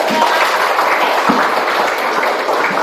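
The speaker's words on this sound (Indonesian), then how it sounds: "Oke, tepuk tangan" A group in a classroom session claps together, a dense, steady wash of hand claps that holds at an even level from start to finish.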